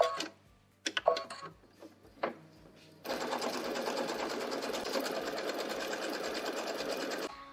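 After a few scattered knocks and clicks, an embroidery machine starts up and stitches a tack down line on fabric for a quilting block, running as a steady, rapid, close mechanical whir until the end.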